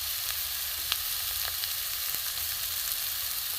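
Ground spices (turmeric, red chilli, cumin, coriander and garam masala powders) frying in a pan while being cooked down, a steady close sizzle with faint stirring clicks and no talk.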